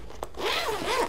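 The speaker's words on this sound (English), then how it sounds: "It does have double zipper right here" A double zipper on a marker bag being unzipped, one quick scratchy pull up close and clear.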